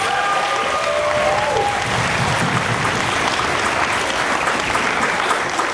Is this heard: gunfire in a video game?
no